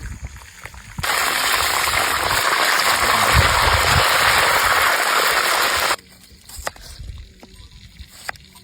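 Heavy rain roars in steadily for about five seconds, a loud dense hiss that cuts off abruptly, leaving quieter ambient sound with faint scattered knocks.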